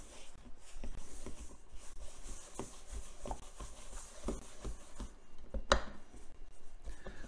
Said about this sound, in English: So we're gonna mix this all together